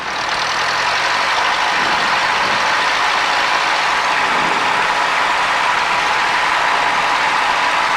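A light aircraft engine runs up with the throttle set at 1700 rpm, a loud, steady, close propeller and engine roar that holds constant throughout with no talk.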